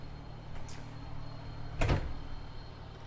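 A door inside a 2019 Rockwood Ultra Lite 2912BS camper trailer swings shut with a single short thud near the end, heard alone over a low steady background hum.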